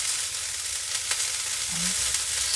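Onions hiss and sizzle on a hot griddle beside vegan burger patties, a dense, even frying noise with one brief tap partway through, close and steady without speech.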